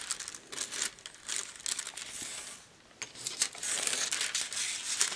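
Paper crinkles and rustles in short bursts while heart-shaped cutouts are laid on cardboard for a handmade greeting card, close and fairly quiet, with a short lull midway.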